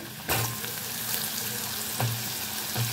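Cut potatoes go into hot tempered oil and fry with a loud, close sizzle, with a few sharper bursts and stirring sounds over an otherwise steady hiss, and no talking.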